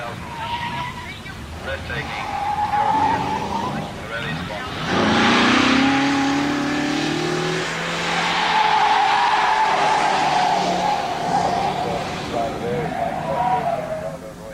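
A Lancia Flavia Zagato is driven hard round a slalom course on an airfield near Dover in a timed test, its tyres squealing and skidding through the turns as the engine note rises and falls, with someone commentating over it.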